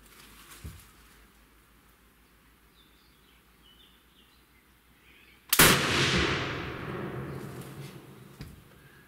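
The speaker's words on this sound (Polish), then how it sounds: "Od naciśnięcia spustu do momentu, kiedy padnie strzał." A single sharp gunshot from over century-old German ammunition cracks out after several seconds of quiet outdoor ambience with faint birds, followed by a long rolling echo that fades away.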